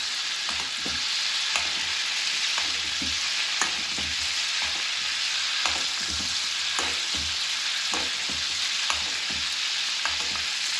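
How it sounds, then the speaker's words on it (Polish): A beef steak fries in butter while being basted, a loud steady sizzle with intermittent spoon clinks against the pan repeating every second or so, close and without speech. "Przez około 2 minuty tak go obsmażamy."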